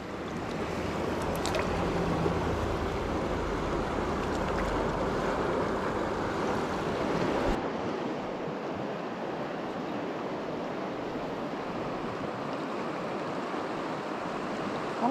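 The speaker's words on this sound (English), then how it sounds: "I guess the river's running kind of high right now." The Deschutes River runs high in December, a steady broad rush of heavy water with wind buffeting the microphone, the roar easing slightly partway through.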